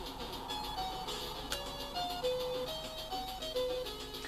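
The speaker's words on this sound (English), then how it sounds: "let's take a moment to listen to the wonderful synth chip music" Commodore 64 SID synth chip title music from the Super Trux video game, a bright, steady sequence of stepped chiptune notes with a busy electronic backing, playing continuously and fairly loud with no voices.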